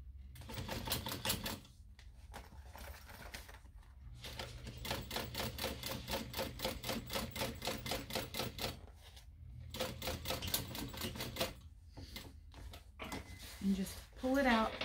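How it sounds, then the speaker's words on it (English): Sewing machine top stitching a mini backpack, running in bursts of rapid, even stitching with short pauses between runs, fairly close and steady. "pull and top stitch through your machine"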